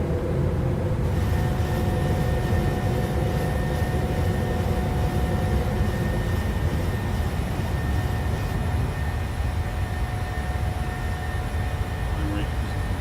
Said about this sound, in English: And we're off. Positive rate of climb.